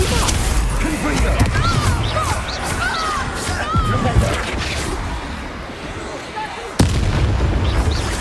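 Confringo blasting-spell explosions in the Hogwarts Legacy video game: loud, heavy booms and crashes amid combat noise and voices, with a sharp fresh blast near the end.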